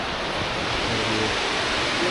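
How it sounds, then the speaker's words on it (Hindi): A waterfall pours down from Nain Sarovar lake on the Shrikhand Mahadev trek, a loud, steady broadband rush of water heard close by with no talking. "ये झरना ही आ रहा है नैन सरोवर से,"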